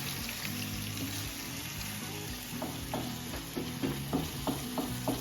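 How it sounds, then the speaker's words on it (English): Chopped white onion frying in a pan, a steady close sizzle with occasional stirring clicks toward the end, no talking. "I'm going to throw some onions in there and get some onions cooking in there with it."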